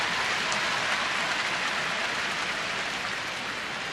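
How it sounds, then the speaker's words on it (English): Steady, gentle rain falls at a baseball park during a White Sox game, a continuous soft hiss of drops spread evenly across the clip with no voices over it. "It's raining just ever so gently at the ballpark."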